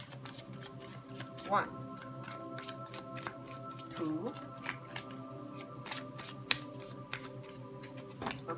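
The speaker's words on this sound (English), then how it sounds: "3 shuffles." A tarot card deck is shuffled in several passes, giving soft riffling flutters and light clicking taps close by, while a quiet voice counts along.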